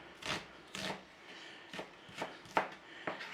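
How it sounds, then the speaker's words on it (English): Onions being thinly sliced with a knife on a board, steady knife strokes landing about every half second, soft and close, with no talk over them. "Just thinly slice your onions."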